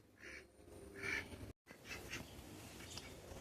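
A guinea fowl gives harsh, repeated squawking calls in short bursts outdoors, moderately near, with a brief gap of silence midway.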